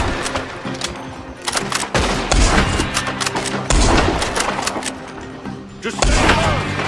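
Gunfire from a shootout in the video game Red Dead Redemption 2, loud repeated shots and heavy thuds in bursts, with a brief pause between volleys and a busy, clattering background.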